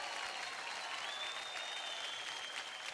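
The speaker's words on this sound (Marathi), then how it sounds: "बनवा बनवी करणाऱ्या या दोघांसाठी जोरदार टाळ्या होऊन जाऊ द्या" Studio audience on a Marathi TV dance competition breaking into loud, continuous applause, a dense wash of clapping with crowd noise that holds steady for the whole few seconds.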